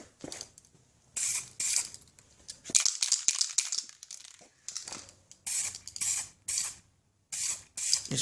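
Clear coat spray paint misting onto a PS4 controller, heard as a series of short hissing bursts with brief quiet gaps, close and fairly loud.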